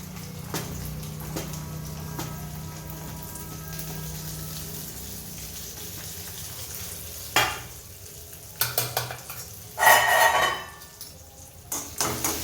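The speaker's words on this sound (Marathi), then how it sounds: "त्याच्यानंतर ही कोथिंबीर टाकून थोडीशी फ्राय होऊ द्यायची" Coriander fries in a pan with turmeric and spices, a steady low sizzle under occasional stirring, followed by louder scrapes and clatters of a utensil against the pan toward the end.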